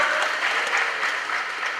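An audience at a youth conference claps in sustained, dense applause close by, steady throughout with no talking.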